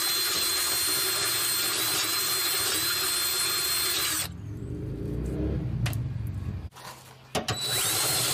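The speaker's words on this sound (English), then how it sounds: "I'm gonna go ahead and get started in drilling out this hole to match the size of that hole over there." Power drill boring a hole through the steel frame of a 2017 Ford Transit 350 XLT during hitch installation, a loud steady whine that drops out midway, then resumes in short bursts close up.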